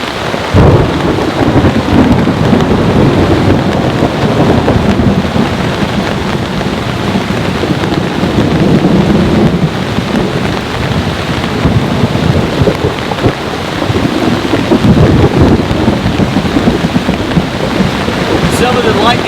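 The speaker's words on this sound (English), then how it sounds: "some of the lightning strikes up here have been crazy close" A violent thunderstorm lashes a campsite with heavy rain, a loud, unbroken roar of downpour layered with deep rumbling thunder from nearby lightning, sustained throughout with wind in the background.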